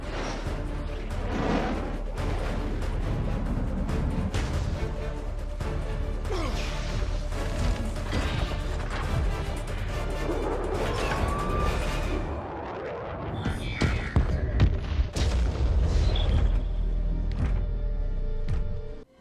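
Airstrike explosions from the film Transformers: Revenge of the Fallen, a dense barrage of booms, crashes and debris over a rumbling bed, ending with a quieter stretch and then a final heavy blast cluster, no clear speech.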